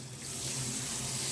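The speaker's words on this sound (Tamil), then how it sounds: "இப்போ தண்ணி ஊற்றிக்கோங்க" Water pours in a steady stream into a pan of eggplant gravy for biryani, a close, continuous splashing gush lasting a moment.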